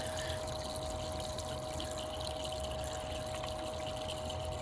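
Water runs steadily through a Blue Bowl gold concentrator washing black sands, a soft, even flow with a faint pump hum beneath, close and unbroken with no talking.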